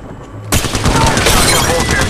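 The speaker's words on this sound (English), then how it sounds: "Opening fire" Sustained automatic gunfire from the mobile battle royale game Apex Legends Mobile bursts in suddenly after a quiet start, a loud, dense rattle of rapid shots continuing without pause to the end.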